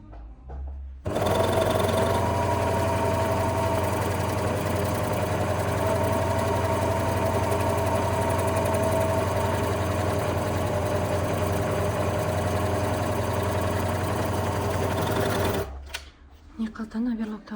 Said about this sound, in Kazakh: Енді осы жерді мұны оверлок жасап аламыз.